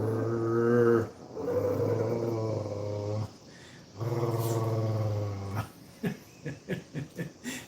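A grumpy dog growls in long, low rumbling stretches, pausing between them, then shifts into a quick series of short huffing growls near the end; the sound is close and fairly loud, with no talking.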